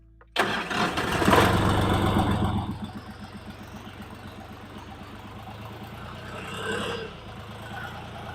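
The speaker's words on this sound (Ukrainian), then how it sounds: "гріємо свічку секундів 20 і заводимось" A tractor's diesel engine, a Chinese DTZ 5354, cranks and catches in cold weather after glow-plug preheating, revving loudly for a couple of seconds before settling into a steady, rattling idle up close.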